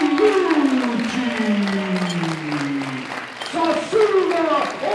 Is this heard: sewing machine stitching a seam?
no